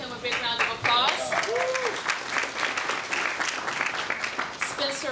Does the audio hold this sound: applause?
yes